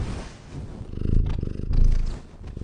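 A cat purrs on a table, close and steady, with a low rumbling rhythm that swells and fades with each breath, alone with no talking.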